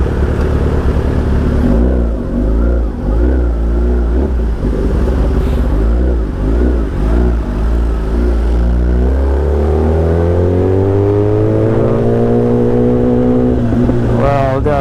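Road traffic in morning riding, with car and motorcycle engines surging and revving close by as vehicles jostle to overtake, then a rising engine note sweeps upward near the end.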